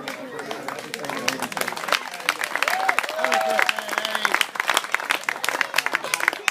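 A crowd at a junior rugby league awards day on Russell Island gives a round of applause, uneven bursts of clapping mixed with cheering and chattering voices, some children's among them.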